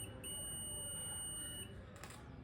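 A budget multimeter gives a steady high-pitched continuity beep during a wire check. The beep holds for about a second and a half over faint room noise, then stops briefly and comes back.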